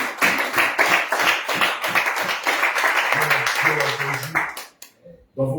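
A church congregation claps together in dense, rapid rhythm at worship, loud and sustained, with a low voice or music line underneath toward the end before the clapping fades out.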